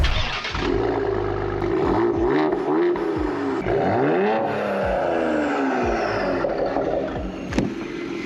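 A Stage 4 tuned Ford Explorer ST revs and accelerates hard, its engine note sweeping up and down through repeated climbs with throaty exhaust burbles, loud and close from the cabin.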